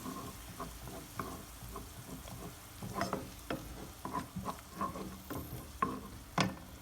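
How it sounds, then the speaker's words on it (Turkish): Adana-style topalak soup is stirred in a pot, with soft, quiet spoon scrapes and light taps against the pot repeating in an uneven rhythm over a faint simmering background. "Daha sonra bunu iyice karıştırıyorum."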